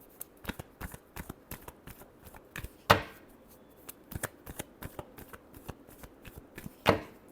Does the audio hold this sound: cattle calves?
no